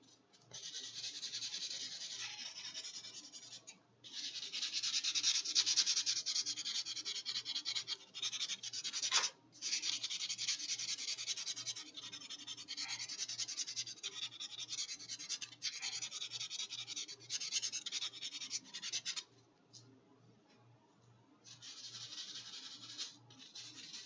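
Fingernails being filed with a nail file, a close scratchy rasp of repeated strokes that comes in long bursts separated by short pauses.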